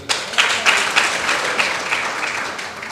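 A crowd at a political rally applauds loudly, with close, dense clapping that swells in several bursts before gradually tapering off.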